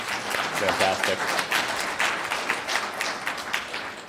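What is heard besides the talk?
audience applause for the speakers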